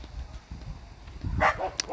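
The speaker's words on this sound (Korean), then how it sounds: "개가 짖네." A dog barks a few times in the distance at night on the outskirts of a town, short faint yelps against quiet outdoor background.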